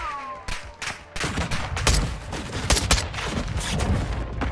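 Sustained battlefield barrage from Modern Warfare II: loud, dense bursts of gunfire mixed with heavy mortar impacts, cracking and booming continuously with no break throughout.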